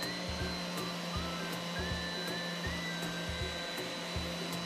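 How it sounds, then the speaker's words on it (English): A power sander rounds off the tops of wooden table legs, giving a steady, fairly faint motor drone with a low, repeating rhythmic throb and no voices. "take the sander and round off the top"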